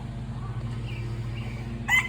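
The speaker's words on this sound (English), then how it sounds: "the chickens are starting to file into their prospective coop" A backyard mixed flock of chickens files into the coop at bedtime, giving soft scattered clucks over a low steady hum, with a sharper, louder call at the very end.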